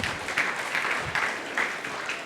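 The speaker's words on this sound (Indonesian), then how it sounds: "Yang setuju berikan tepuk tangan meriah buat Tuhan kita" Congregation applause during an online church worship service, a steady broadband patter of many hands clapping throughout, moderately loud and continuous with no talk over it.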